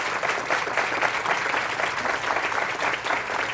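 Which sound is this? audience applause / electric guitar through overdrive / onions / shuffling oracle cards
audience applause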